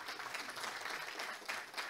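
An audience at a mining industry talk claps for the presenter, a short, steady, moderately quiet round of applause from a room full of people with no voices over it.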